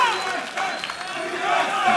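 Esports crowd, online and in-person, cheering on TSM at a 2014 NA LCS Summer League of Legends match, a steady broadband roar of voices that swells slightly toward the end, with faint announcer talk running underneath.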